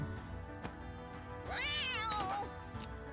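A cat in the Guild of Dungeoneering video game lets out one drawn-out, wavering meow midway through when it is thrown, heard over a steady bed of game music and effects.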